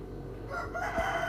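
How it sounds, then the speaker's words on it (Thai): A rooster crows in the background, a drawn-out harmonic call that rises and holds over a steady low hum, moderately loud but not close. "เสียงไก่ครับ"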